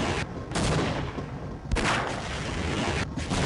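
Sustained gunfire from the video game Half-Life, loud and dense rapid bursts running nearly without pause, with brief dips before the shooting surges again.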